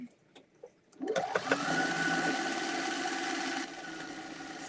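A sewing machine winds a bobbin: after a few soft clicks the motor starts with a rising whine, then holds a steady, close mechanical whir until the end, with no voices.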